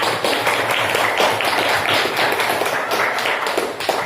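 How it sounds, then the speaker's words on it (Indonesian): A classroom full of people clapping together for a few seconds, steady applause without talk. "beri tepuk tangan untuk kelompok K"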